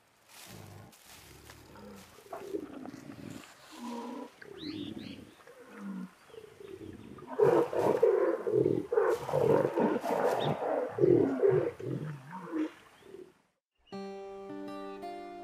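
Jaguars mating in the Brazilian Pantanal rainforest trade rough, grunting roars and snarls, sometimes sounding like a fight, building from intermittent calls into a loud, rapid run of roars before a short musical tail.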